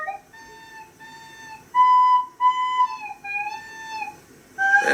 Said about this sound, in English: the lowly recorder can produce some really cool music